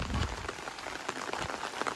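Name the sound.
rain falling outdoors near a fort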